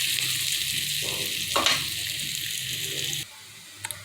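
Cumin, onion and spices frying in a pan, a bright continuous sizzle with stirring scrapes, then dropping suddenly to a quieter hiss with a couple of light clinks.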